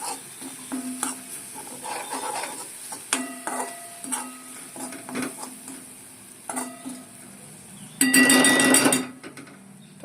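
Maggi noodles with masala being stirred in a pan for spicy garlic Maggi, a spoon scraping and clinking against the pan in repeated strokes over a faint sizzle, with a louder burst of clatter near the end.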